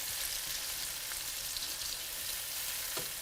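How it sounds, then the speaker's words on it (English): Tomatoes sauté over medium heat in a pan, giving a steady, close hiss of frying with no break and no voices. "while keeping the heat to medium, we want to allow these tomatoes to saute and break down"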